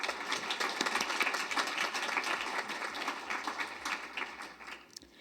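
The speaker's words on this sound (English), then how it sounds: "Please join me in a round of applause as a thank you for our sponsors." An audience at a fireside chat event gives a sustained round of applause to thank sponsors, with dense clapping that slowly thins and fades toward the end.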